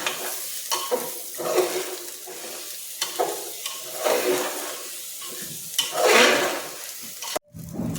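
Washed rice is roasted in an oil-slicked pan for masale bhat and stirred until lightly browned. Repeated close scraping strokes sound over a steady sizzle, and there is a brief silent gap near the end.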